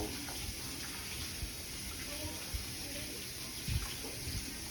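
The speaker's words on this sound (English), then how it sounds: "I'm gonna wash my hands here since the towel fell on the floor." Tap water runs steadily into a kitchen sink while hands are washed, a close, even rushing hiss with small splashes and faint handling sounds throughout.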